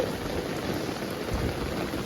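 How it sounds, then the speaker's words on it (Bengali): Heavy rain pours steadily and densely on a rainy day, a close, constant hiss with no pauses and no voices. "প্রচুর বৃষ্টি একটু ভিজবো"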